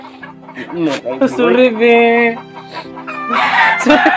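Chickens for sale clucking and crowing close by, several loud calls and squawks mixed with a person talking nearby.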